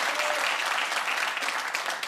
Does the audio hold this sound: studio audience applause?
yes